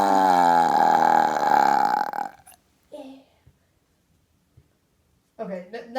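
A baby lets out a long, loud, drawn-out burp at close range, followed by near silence and then brief voices.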